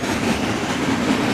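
A CN freight train rumbles past heading east through the Ahuntsic borough of Montreal, a steady loud broadband roar of rolling cars and wheel noise that stays even and close throughout.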